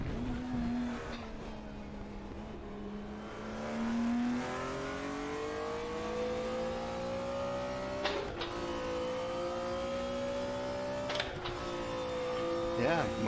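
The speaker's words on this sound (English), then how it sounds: "must be the car that is extra loud in the game." A BMW M1 Procar racing engine in RaceRoom drones loudly and steadily, pitch climbing through the gears with sharp gear-shift breaks, continuous and close.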